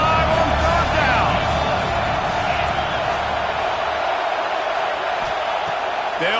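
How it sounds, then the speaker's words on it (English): An Ohio State Buckeye stadium crowd at a college football game against Clemson roars steadily on third down, a broad sustained wash of cheering from the stands, with a broadcaster talking over it. "The Buckeye crowd alive on third down."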